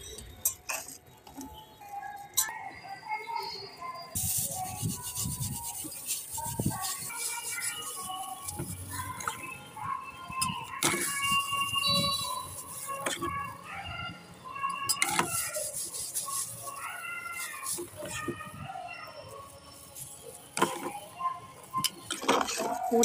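A copper utensil is rubbed and scrubbed by hand to clean it, with scraping, scratching and clinking metal sounds in irregular bursts over a steady background, and someone talks at times.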